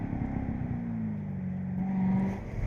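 Chevrolet Corvette ZR1 charging uphill on the Laguna Seca track, its engine note climbing steadily as it accelerates hard, a loud continuous roar with rising pitch and no voices.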